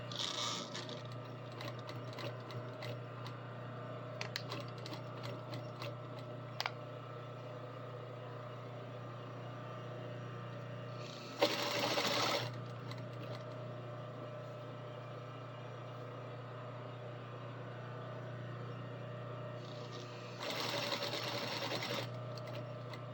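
Sewing machine stitching a half-inch edge hem on back seams, a steady close mechanical whir running throughout, briefly rising into faster, louder bursts.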